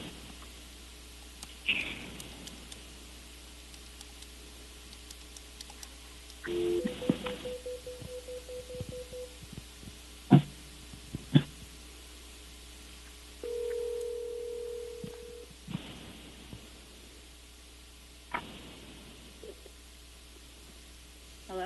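Telephone line during an outgoing call: short dial and keypad tones, a sustained ringback-style tone and scattered clicks over low static, faint and intermittent with quiet gaps.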